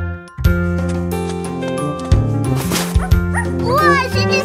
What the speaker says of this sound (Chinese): 哇，是只小狗！